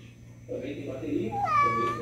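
A pet cat meows indoors, a close, clear rising-and-falling cry near the end of a short stretch where a person is talking.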